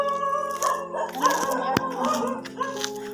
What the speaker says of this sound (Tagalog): Uy, maraming aso.